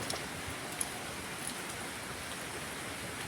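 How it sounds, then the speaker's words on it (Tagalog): Heavy rain pours down steadily at a rural garden plot, a dense continuous hiss with no voices, fairly faint overall. "And grabe yung ulan dito."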